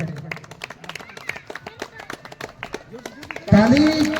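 Scattered clapping from people at a farewell ceremony and community feast, a loose run of claps mixed with speech, ending in a louder burst of crowd noise.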